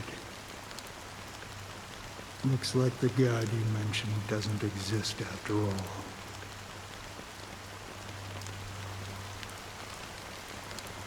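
A fine drizzle of black rain falls over the sea in Honkai: Star Rail, a soft, steady hiss running throughout beneath a man's spoken line.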